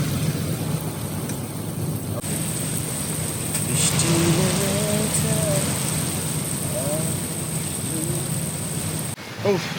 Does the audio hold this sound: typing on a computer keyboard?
no